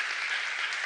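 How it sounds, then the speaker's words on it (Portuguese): Applause for a mother being introduced at a family church service, a brief steady wash of many hands clapping at moderate distance with no voices over it. "Por favor, uma salva de palmas para ela."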